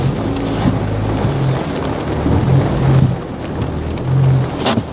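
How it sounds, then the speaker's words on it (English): Heavy rain pours steadily outside a home, making a loud, dense wash of noise, while deep rumbles of thunder roll through and low tones from a nearby vehicle or engine come and go. "Pouring down rain."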